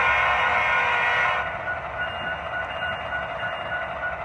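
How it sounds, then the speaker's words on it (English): A Walthers HO-scale model SD70ACE diesel locomotive's sound unit rumbles steadily as a loud horn blast sounds for about a second, then cuts off, leaving the low diesel drone. "this Walther's mainline SD70 ACE locomotive. This sounds very nice, has a very good sound"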